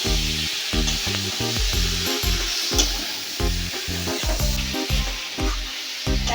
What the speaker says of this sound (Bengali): এখন এঁচোড় আর আলুটাকে 2 মিনিট সময় ধরে নাড়াচাড়া করে ভেজে নেব।